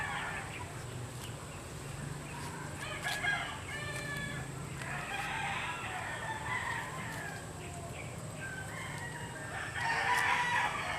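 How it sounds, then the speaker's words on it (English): Several roosters crow repeatedly at a distance from next door over steady outdoor background noise, their calls overlapping and rising toward the end. "You hear a lot of roosters next door."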